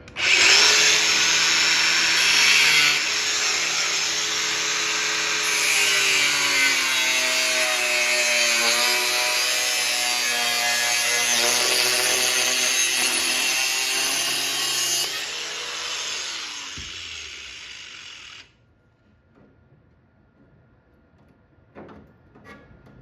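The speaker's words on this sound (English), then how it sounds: "Just going to cut it, grind what I need to, and get it to fit." Sheet metal is cut and ground on an Oldsmobile Vista Cruiser station wagon. A power tool whines loudly and steadily for most of the clip, its pitch sliding as it bites, then winds down into faint clinks and quiet.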